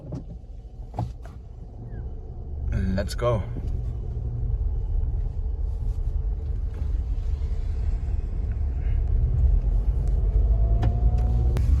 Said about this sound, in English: okay, and we are going to start the car.